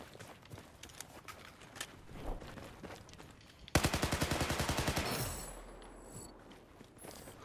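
Video game gunfire from Battlefield 4: scattered shots early, then a loud rapid automatic burst of about a dozen evenly spaced rounds, followed by a fading mechanical whine and quieter distant shots.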